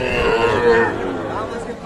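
Calves at a busy cattle market low in short, wavering moos close by, mixed with the murmur of a crowd and nearby talk.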